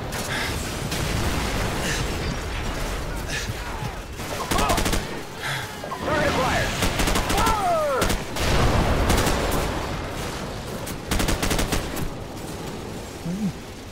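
Dense gunfire from Call of Duty 4: Modern Warfare, with bursts of rapid shots and heavy booms in rolling waves over a busy battle din; voices come through briefly.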